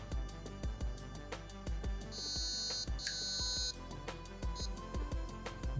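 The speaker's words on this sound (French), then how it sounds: "Au branchement de la batterie, le MOSFET émet 3 bips." An Archwick APC9K AEG airsoft gun's MOSFET gives a few high electronic beeps of differing length over steady background music with a thumping beat.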